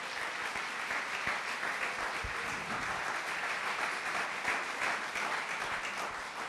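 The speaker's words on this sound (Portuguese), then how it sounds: "dê uma salva de palmas ao Senhor" A church congregation applauding, a dense, steady wash of many hands clapping together at even loudness throughout, with no voice standing out.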